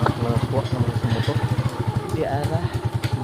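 A motorcycle engine idles close by at a gate with a fast, even putter and light mechanical clatter, while people chat over it the whole time.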